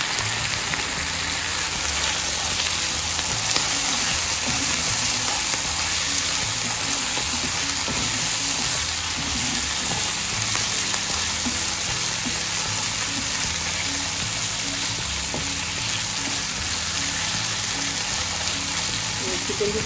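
Chicken liver sizzling on a hot tawa, a steady dense crackle of frying that runs evenly throughout, with faint voices underneath.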